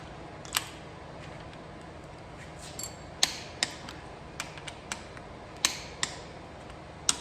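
A torque wrench set to 70 pounds clicks on ARP bolts, giving a series of sharp, close, isolated ticks spaced irregularly over a quiet background.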